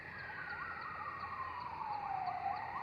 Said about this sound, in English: Suddenly, he hears the sound of siren approaching him.